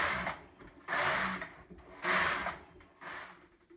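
A knitting machine carriage passes across the bed knitting rib with the ribber attached, stitch size 2 on both carriages: three mechanical clattering sweeps, each roughly a second long, close and fairly quiet with brief pauses between.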